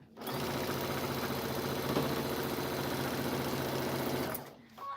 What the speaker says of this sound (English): I just started sewing